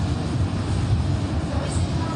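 A tram rolls through Old Town Riga with a steady low rumble and street hum, continuous and fairly close throughout the short stretch.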